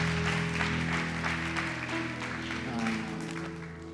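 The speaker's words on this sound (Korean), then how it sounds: "우리 다시 한번 큰 박수로 함께 하겠습니다." A church congregation applauds during a service, a dense patter of clapping over a sustained organ-like tone, fading slightly toward the end.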